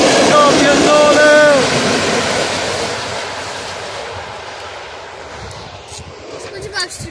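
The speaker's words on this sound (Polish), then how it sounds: "To musi być wielki pociąg." A big train passes close by, loud rumbling and clattering with a high horn-like or screeching tone early on, then fading gradually into the distance.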